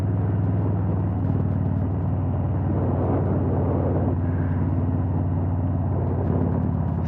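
A Harley-Davidson Road King Special motorcycle engine rumbles steadily, a low continuous throb with a slight shift in tone midway, heard alone without any talk.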